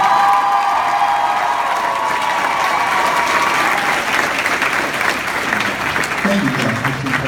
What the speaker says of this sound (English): How about a big round of applause for his composition and working with the choir in general